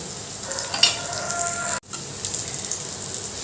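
Pointed gourd sizzles steadily in raw mustard oil with a green chili, a close, continuous frying hiss with a sharp clack of utensil on pan and a brief cut-out before the crackle resumes, with no one talking.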